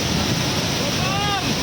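A big natural waterfall, seen from a boat taken close to the falls, fills the air with a steady rushing roar, and wind buffets the microphone.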